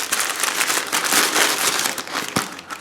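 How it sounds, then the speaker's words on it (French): A McDonald's hamburger's paper wrapper crinkles and crackles close up in a few bursts of crumpling, alone with no talk. "On va déballer notre hamburger ici."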